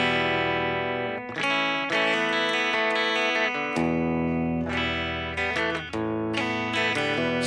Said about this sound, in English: This is without any effects. So this is what the guitar sounds like.